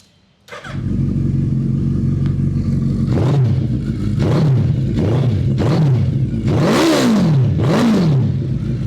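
A Kawasaki Ninja ZX-6R sport motorcycle engine starts and idles loudly, then revs repeatedly in rising and falling bursts, each rev climbing higher, close up.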